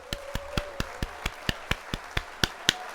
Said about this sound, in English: Let's hit the applause.